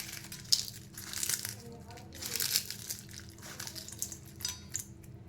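Papad being broken and crushed by hand for churumuri, repeated crisp crunching and crinkling bursts at close range, with faint background voice.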